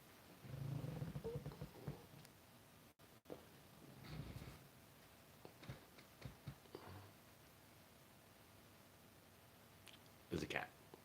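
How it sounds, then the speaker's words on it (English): A domestic cat purrs softly at close range, a low rumbling that mixes with faint clicks and rustling throughout. "There's a cat."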